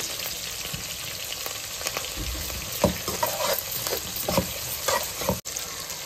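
Coriander leaves and kasuri methi fry in a pot of biryani base, giving a steady close sizzle with intermittent stirring scrapes and clatters throughout.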